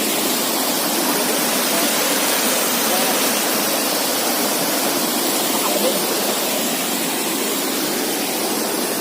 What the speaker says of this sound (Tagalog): Yung ilog.